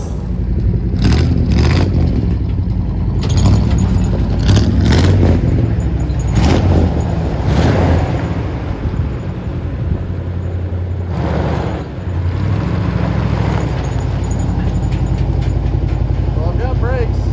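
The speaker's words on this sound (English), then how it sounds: "What do you say we let this thing warm up and then attempt to drive it again?" A 1975 International Harvester 150 pickup engine idles while warming up after years of sitting, a steady close rumble with occasional uneven surges and knocks running through the whole stretch.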